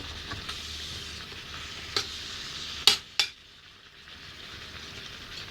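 Chicken offal stir-fried with pea eggplants in a pan, sizzling and frying with a few sharp metallic scrapes from stirring, then the sizzle drops away to quieter hissing.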